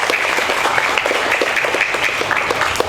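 An audience at a school award ceremony for Khmer-language students claps in a dense, sustained round of applause, close and fairly loud.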